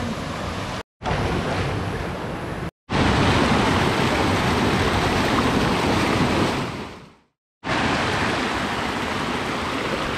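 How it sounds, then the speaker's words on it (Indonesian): Water from a waterfall rushes in a loud, broadband continuous roar along a trail, interrupted by several brief cuts to silence and a fade near the end. "Inilah air daripada air terjun tuh."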